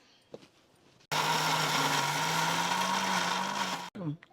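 An electric mixer grinder churns ripe red chillies for garlic chutney, starting abruptly and holding a loud, steady whirring roar with a low hum for about three seconds before stopping, with a voice heard briefly on either side.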